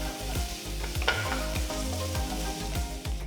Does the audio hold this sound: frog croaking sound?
no